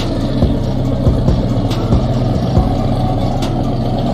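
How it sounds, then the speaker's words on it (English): A twin-turbo Chevy truck engine runs steadily and loud, with a dense low rumble and a faint turbo whine on top and no break for the whole stretch. "If you listen closely, you can hear the turbos on that Chevy"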